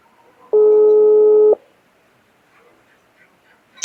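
A single one-second busy-signal tone from a telephone, clear and electronic, followed by quiet background murmurs and a click at the end.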